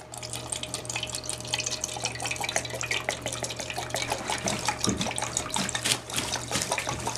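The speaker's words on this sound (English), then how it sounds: "I fill the measuring cup up first to 3/4 of a cup with the turpentine" Turpentine poured into a measuring cup for a hand plane cleaning mix: a steady, close trickling liquid stream that runs continuously for several seconds.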